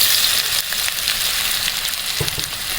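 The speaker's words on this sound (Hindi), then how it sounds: "ऑयल हमारा गर्म है तो इसके अंदर हम डाल देते हैं ये प्याज कटी हुई और साथ में ही इसके हम आलू डाल देते हैं।" Chopped onion and potato fry in hot oil in a kadai, a loud steady sizzle close by with a couple of soft stirring knocks and no speech.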